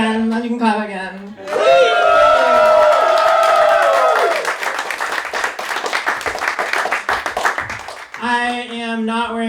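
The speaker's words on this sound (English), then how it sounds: "Alright, you can clap again." Crowd clapping and cheering at a house-party comedy special swells after a performer speaks, holding loud applause with whoops for several seconds before the comic's voice returns.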